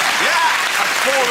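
Studio audience claps and cheers at a comedy panel show, dense steady applause with brief voices rising over it.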